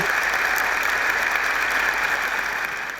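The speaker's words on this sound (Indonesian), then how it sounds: "kita berikan aplaus untuk Wilny" A studio audience at a campus talk-show taping claps for a guest, a dense, even burst of applause lasting a few seconds with no voices over it.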